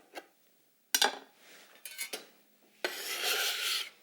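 Knife slicing through chiffonade strips of raw kale on a cutting board, with a few short crisp cuts followed by a longer, louder rasping scrape near the end.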